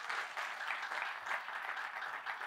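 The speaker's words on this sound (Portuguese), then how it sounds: "Quem crê, dê um aplauso forte para o Senhor Jesus." Loud, steady applause from a church congregation fills the whole stretch without a break, a dense wash of clapping with no voices standing out.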